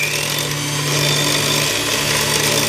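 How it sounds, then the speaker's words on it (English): Ingredients for a soufflé omelette are whisked in a bowl, a steady, continuous whirring rush at close range with no pauses and no voices. "now I'm going to switch the bowls over again and just give that little lot a whisk"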